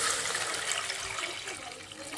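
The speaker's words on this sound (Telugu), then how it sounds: "ఇంకా అలానే ఎసురు వాటర్ పోసుకున్నాం." Water pours steadily into a cooking pan for a korameenu fish curry, a continuous close splashing rush that runs unbroken to the end.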